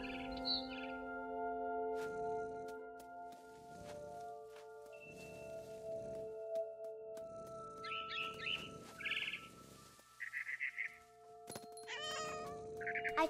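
A cat meowing in the video game What Remains of Edith Finch, several distinct meows and short cries spaced across the passage, alongside game music tones and a few faint bird chirps.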